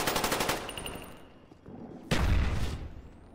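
Uzi submachine gun fire in Black Ops: a rapid burst of close, sharp shots in quick rhythm, followed after a short lull by a louder, heavier blast.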